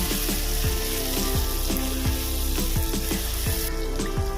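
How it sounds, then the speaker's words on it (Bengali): Turmeric, cumin, coriander and chili powder sautéing in oil in a pan, a loud dense sizzle close up with repeated low knocks of the spoon against the pan. "মশলাটা ভালো করে কষিয়ে নেব"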